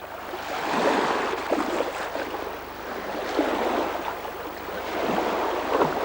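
Waves washing onto an Estonian seashore, rising and falling surges of surf every couple of seconds, close and moderately loud, with wind buffeting the microphone and no voices.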